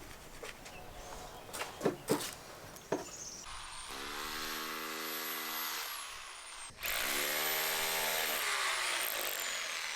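A power drill bores into bedrock at the edge of a farm foundation before the concrete pour. It runs loud and steady in two long bursts with a brief pause between them, and there is no talk.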